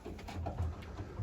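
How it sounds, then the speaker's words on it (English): Pigeons in a backyard loft coo softly around feeding time, low murmuring calls that repeat steadily over a quiet background. "Well, I just fed the birds here."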